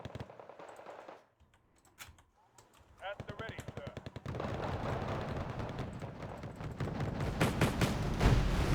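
Gunfire in a ranked video game match, scattered shots giving way to sustained rapid automatic bursts and heavy impacts that build in intensity, with a player talking over part of it.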